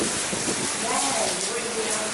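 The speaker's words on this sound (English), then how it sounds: "we're fortunate to be under here because that is a serious rain squall going through" A heavy rain squall sweeps across the rocky coast of Kangaroo Island, a dense continuous hiss of rain close by, with a voice talking over it.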